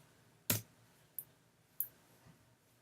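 A computer mouse gives three crisp, close clicks spaced about half a second apart in a quiet room.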